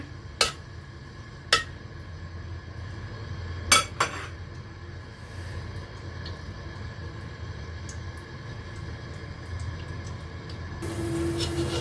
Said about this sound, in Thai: ผัดขิงให้หอมก่อนนะคะ